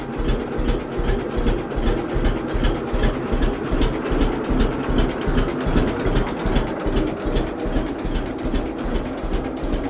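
A low, rumbling engine idles steadily and evenly throughout, with a rapid pulsing throb and no voices.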